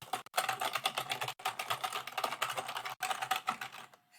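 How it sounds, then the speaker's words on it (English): Loud, rapid clacking from a computer keyboard during Roblox play, dense keystrokes rattling continuously in close, bright bursts with a few brief pauses, no talking. "This keyboard is a very loud thing."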